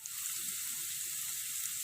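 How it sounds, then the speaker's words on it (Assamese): Turmeric powder fries in hot oil in a pan while a banana flower curry is cooked, giving a steady, close, even sizzle with no talk. "কেঁচা গোন্ধটো নোযোৱালৈকে ভাজি থাকিব।"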